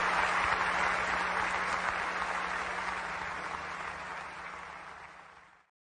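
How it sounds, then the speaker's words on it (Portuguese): Congregation at an Assembleia de Deus church service in São Paulo applauding warmly, a dense steady wash of clapping that fades out after about five and a half seconds, with no talk over it. "E o povo aplaude aquela coisa toda"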